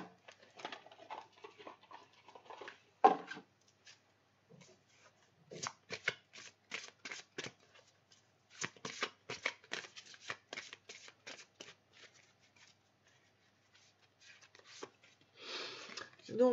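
Oracle cards are shuffled close by in rapid bursts of papery flicks and riffles, broken by short pauses, with a voice speaking in between.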